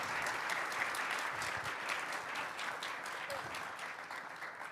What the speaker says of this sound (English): It's a good round of applause